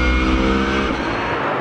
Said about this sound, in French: Tous les concurrents se sont élancés sans encombre à l'assaut de cette superbe piste de Dijon-Prenois.